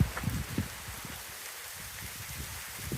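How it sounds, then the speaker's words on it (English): Heavy rain hammering down around a tree where a walker and dog shelter, a steady dense hiss of drops with a few sharper nearby splats and thumps. "Yep, the rain started, so we're taking shelter to this fine tree."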